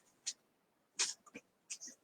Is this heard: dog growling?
yes